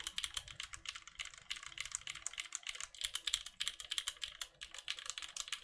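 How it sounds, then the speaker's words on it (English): Rapid, continuous typing on a clacky custom mechanical keyboard built with a PC plate and O-rings, close and crisp with bright, sharp keystrokes alone and without talk. "If you like a clacky keyboard, this sounds great."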